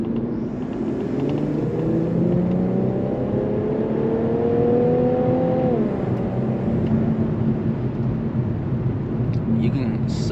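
An Infiniti Q50 Red Sport 400 accelerates through its gears, a steady engine drone with rising and falling tones and a faint turbo whistle, heard from inside the car while people talk.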